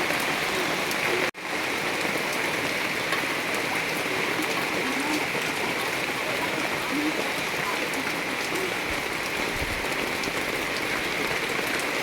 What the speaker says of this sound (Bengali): আমাদের এখানে খুব বৃষ্টি পড়ছে